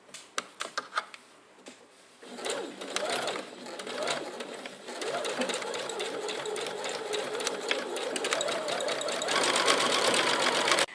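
A sewing machine runs a straight stitch along a gandoura dress, starting with a few short stop-start bursts before settling into a steady, continuous whir that holds close and fairly loud to the end.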